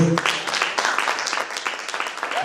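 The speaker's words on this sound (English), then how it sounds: "I think she deserves one more round of applause" Applause from a seated audience at a confidence workshop, a dense steady patter of many hands clapping that carries on at even strength for the whole stretch.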